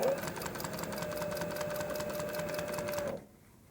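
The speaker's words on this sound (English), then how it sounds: "I'm going to sew a few more stitches." An industrial sewing machine runs steadily while stitching leather, a continuous rapid mechanical chatter at close range that holds for about three seconds and then stops abruptly.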